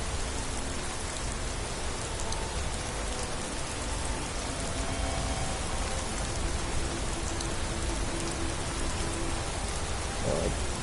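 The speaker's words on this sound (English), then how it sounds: "you'll notice the little rain splashes. That's also coming from Wonders of Weather." Steady rain falls and splashes on the ground in Skyrim with the Wonders of Weather mod, a dense, even hiss of droplets that stays constant throughout without talk.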